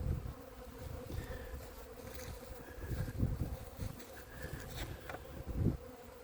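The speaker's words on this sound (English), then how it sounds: "The bees are in there. They're checking out all the resources that they can snag." Honeybees buzz steadily close by around hive boxes, a dense droning hum with individual bees swelling louder as they pass near.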